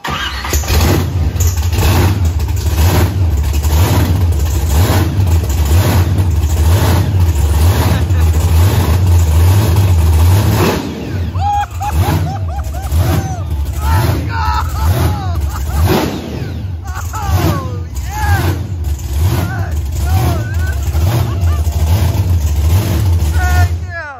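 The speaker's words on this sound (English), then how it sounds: "Giant engine sounds better than me." A giant 9.3L SMX engine from a 5,000 hp build revs loudly and repeatedly up close, deep roaring bursts with rising pitch sweeps, while people talk and shout over and around it.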